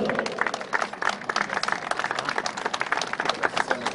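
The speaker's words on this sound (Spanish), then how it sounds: "¡Fuertes los aplausos!" A crowd at a provincial public event applauds steadily throughout, with dense, lively clapping close to the listener and no talk over it.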